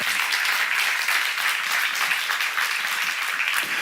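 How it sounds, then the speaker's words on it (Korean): Church congregation applauding during a sermon, a steady dense wash of clapping from many hands that holds evenly for about four seconds. "박수 하세요."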